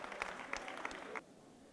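Scattered applause from the bride's side of the guests at a wedding, a modest stretch of clapping with a few sharp individual claps that stops abruptly after about a second.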